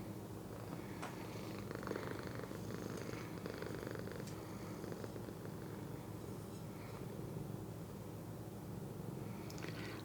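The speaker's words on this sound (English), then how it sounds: "This cat, I'm sorry, she's sitting here purring in my ear." A cat purrs right next to the microphone, a faint, continuous low rumble with a soft rhythmic texture, broken by a few light clicks and rustles.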